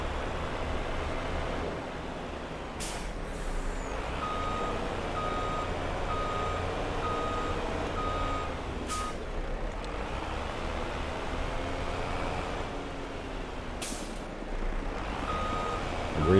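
Volvo truck backing up in the farming game Farming Simulator 22, with a steady low engine rumble and three spaced reversing beeps, heard alone with no talk.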